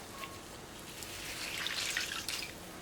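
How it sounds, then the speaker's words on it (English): Soaked bread squeezed by hand in a home kitchen while making chicken patties, giving a short wet dribble and splash of excess water that swells over the second half, close and fairly soft. "I'm gonna squeeze the excess water"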